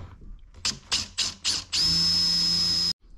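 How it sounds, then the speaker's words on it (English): A small drill bit whirs in four short bursts into a wooden boat's cockpit, then runs continuously at a high whine for over a second before stopping abruptly. "I'm going to start with a small drill."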